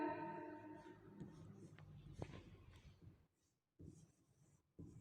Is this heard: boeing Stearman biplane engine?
no